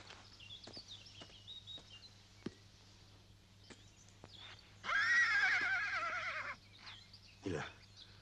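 A horse whinnies loudly once, a long wavering neigh, followed by a short snort; quiet background with faint thuds and steady hum.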